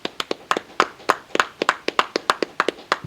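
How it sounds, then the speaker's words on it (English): Audience clapping at a class session, about a dozen sharp, evenly spaced claps in a steady rhythm, close and fairly loud, with no talking over it. "Clap it up, y'all"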